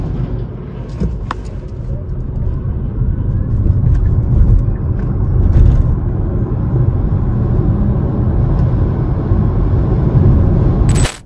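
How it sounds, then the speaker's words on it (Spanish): A 2024 Kia EV6 Base electric car under full-throttle acceleration gives a loud, steady low rumble of road and motor noise that swells and holds for several seconds before cutting off abruptly. "es que escuches cómo suena esta máquina cuando pisamos el acelerador a fondo"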